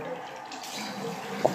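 Water running from a tap into a sink or bag, a steady, soft hiss and splash that continues evenly throughout at moderate distance, with a small clink near the end.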